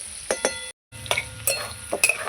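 Potatoes and onions fry in a pan and are stirred, giving a soft sizzle under several sharp metallic clinks and scrapes of the utensil against the pan. There is a brief gap partway through.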